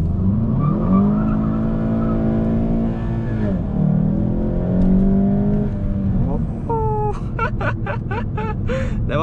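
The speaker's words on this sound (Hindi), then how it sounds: "There was a lot of wheel spin actually and the car refused to shift" A VW Golf GTI in full sport mode launches hard with wheel spin, its engine note rising loud and close under continuous talk, then sharp bursts and pulses near the end as it hesitates to shift.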